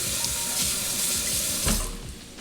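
A kitchen tap runs into a sink while a vegetable is rinsed under the stream, a close, steady splashing hiss that shifts slightly as the item moves, then tapers off at the end.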